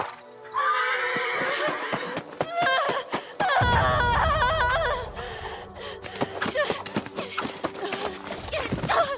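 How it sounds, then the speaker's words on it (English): A horse in the video game Where Winds Meet neighs loudly with a rising whinny and snorts, followed by a steady clip-clop of hooves, with a little talk alongside. "Good horse."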